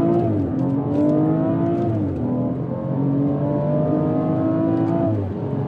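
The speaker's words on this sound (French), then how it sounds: "Donc si on faisait une petite accélération" A turbocharged car engine revs up in rising sweeps while accelerating, gear changes dropping the pitch before it climbs again, loud and close with no talking.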